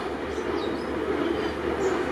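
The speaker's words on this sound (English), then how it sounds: "Bonus footage of the train going past." A passing train gives a steady, loud broadband rumble with faint wheel squeal above it, heard close by outdoors with no talk.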